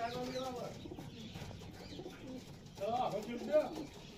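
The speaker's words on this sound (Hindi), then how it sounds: "तो ऐसे कबूतर रखे हुए हैं, इसके साथ ये मादा लगाई हुई है हमारे चेतन भ" Soft coos from border pigeons come in bursts, close by, with a voice talking quietly through much of it.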